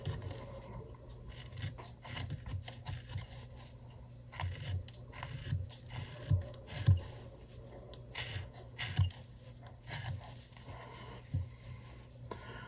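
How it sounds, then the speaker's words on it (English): A wooden gnome carved with a knife, producing repeated short scraping and shaving strokes in an uneven rhythm, with occasional sharper cuts, close and moderately quiet, no speech. "I'm just doing as much of it as I can with a knife"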